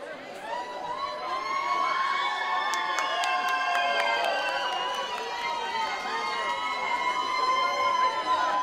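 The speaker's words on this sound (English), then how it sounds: "What a cheering section" A crowd of supporters at an awards show cheers and shouts loudly and continuously, high excited voices and whoops layered together throughout.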